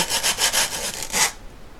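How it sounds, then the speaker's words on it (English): Hand sanding with 100 grit sandpaper, close and loud, with about six quick back-and-forth rasping strokes before it stops. "By the way, sandpaper! This is 100 grit."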